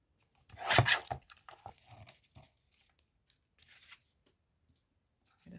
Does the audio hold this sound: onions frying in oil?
no